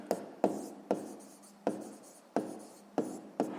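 A pen strikes and scratches across notebook paper in a Ukrainian 6th-grade maths lesson, seven sharp pen-down taps each followed by a short scratching stroke, close and fairly quiet, with no talking.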